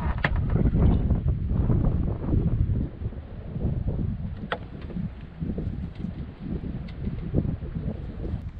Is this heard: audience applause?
no